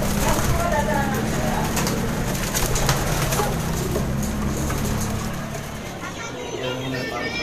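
Pigeons at a loft coo softly amid a busy outdoor background, with people talking over them at moderate volume throughout.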